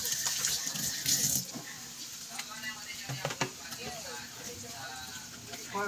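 Tap water runs steadily while raw pork belly is rinsed at a kitchen sink, with splashing surges near the start and a person talking over it.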